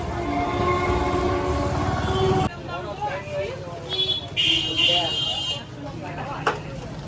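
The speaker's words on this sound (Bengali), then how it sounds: "পাশেই ট্রেন হর্ন দিচ্ছে এই যে এই যে ট্রেন যাচ্ছে" A passing train beside a wholesale bag market in Kolkata sounds a loud, sustained horn, then rolls on with rumbling and clatter while people talk nearby.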